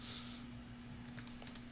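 Light clicking keystrokes on a computer keyboard, a few quick taps clustered near the end over a steady low electrical hum, close and faint.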